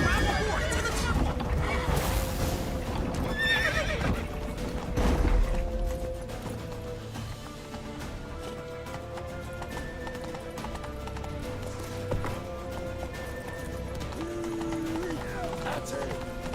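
Galloping horse hooves in The Witcher 3: Wild Hunt, a rapid, driving clatter that runs on with snorts and game effects, while voices speak over the hoofbeats.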